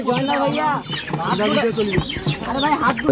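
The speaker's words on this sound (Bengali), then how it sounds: "আমরা মুরগি নিব, সামনেই মুরগির দোকান।" Chickens cluck and squawk at close range at a live chicken shop in a market, several birds calling over one another continuously and loudly.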